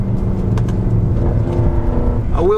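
High-mileage Mercedes C63 AMG engine idling and revving, a steady loud rumble with light crackle from the exhaust, rising into a brief rev near the end.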